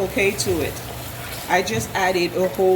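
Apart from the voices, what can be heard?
No everyday noise stands out behind the speech.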